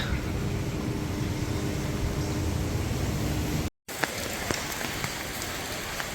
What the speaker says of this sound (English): It's kind of lightly raining.